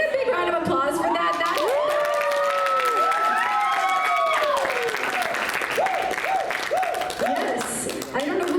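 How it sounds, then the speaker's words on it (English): A convention crowd at a Greasy Strangler Q&A panel at Spooky Empire breaks into sustained applause with cheers and whoops, as clapping fills the whole stretch while excited voices rise and fall over it. "Can we get a big round of applause for that?"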